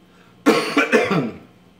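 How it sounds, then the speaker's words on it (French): A person gives a short burst of coughs, two or three harsh hacks in quick succession, close and clear against near silence. "Est-ce que je peux tousser un petit peu?"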